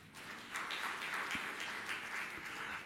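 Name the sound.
audience applause in a church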